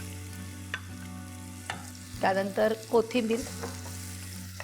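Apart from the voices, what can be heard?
onion frying and stirring in tempering for pithla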